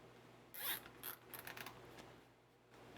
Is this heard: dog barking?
no